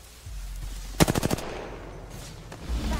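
A short burst of rapid machine-gun fire rings out in a video game shootout. There are about six quick, loud, close shots, followed by a faint isolated shot and low background rumble.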